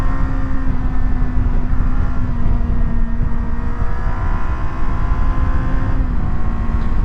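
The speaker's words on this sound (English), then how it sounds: "If you let the engine sing and really rev out" Budget adventure motorcycle engine revving out hard, a steady loud buzzing drone with a sustained high-rpm pitch, heard close and alone without talking.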